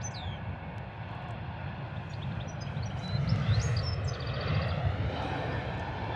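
A Ryanair jet rolls down the runway on its takeoff run at London Stansted, a broad steady engine roar that swells partway through, heard from a distance with faint bird chirps above it.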